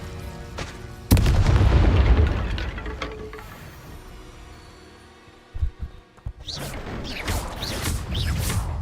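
An Incendio fire spell bursts out in Hogwarts Legacy, a loud sudden whoosh and roar that fades over a few seconds, followed by thumps and a second rushing burst.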